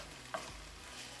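Chicken for lettuce wraps sizzles in a hot pan with its liquid cooking off: a faint, steady frying hiss broken once by a brief stirring scrape.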